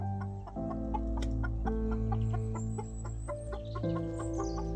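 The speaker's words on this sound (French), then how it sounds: "C'est notre seconde poule soie." A fawn-coloured silkie hen, an ancient Chinese breed, clucks in a rapid, rhythmic series of short notes close to the microphone over steady background noise, with no talk.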